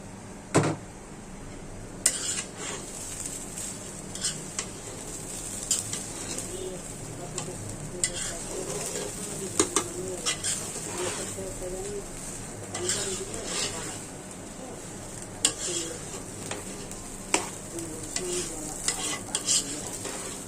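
Rice fries with oil, beef, green chilies and bay leaves in a pot for Old Dhaka–style mung dal biryani, a steady sizzle broken by frequent sharp scrapes and clinks of a stirring spoon.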